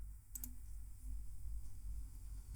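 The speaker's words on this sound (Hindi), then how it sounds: "सर्च करने के बाद में मैं टैब बटन प्रेस कर रहा हूँ" A single key press on a computer keyboard, the Tab key, makes a brief sharp click close by, faint over a quiet steady room hum.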